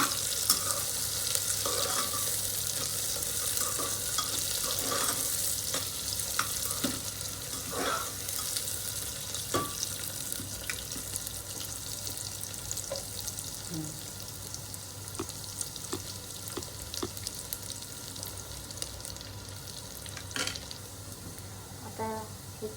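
Onions browning in a hot pan for chicken pulao sizzle steadily for the whole stretch, with scattered sharp clicks of a utensil stirring and a faint running-water hiss in the background.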